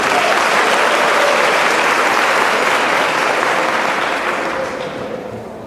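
A Catholic charismatic congregation at a diocesan congress applauds in praise, a loud, thick roar of clapping that stays steady, then gradually thins and quiets toward the end.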